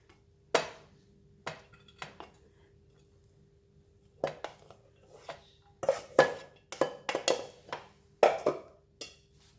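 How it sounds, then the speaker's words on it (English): Rice going into a baking pan for a cheese-baked curry, a series of scattered light knocks and scrapes of a utensil against the pan, close and quiet with pauses between them. "start off with putting all the ingredients in the baking pan. Just put in the rice."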